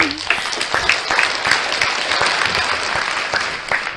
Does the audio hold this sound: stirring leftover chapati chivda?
no